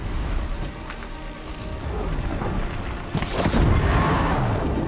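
Burning and booming game effects from Horizon Zero Dawn as an enemy is set on fire, a dense rumbling roar of flames and impacts throughout, with a sharper crashing burst near the end.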